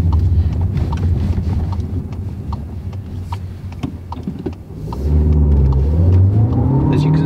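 SEAT Tarraco 2019 seven-seat SUV pulling away on a road, heard from inside the cabin: a loud, steady engine drone with a rising rev toward the end, no voices over it.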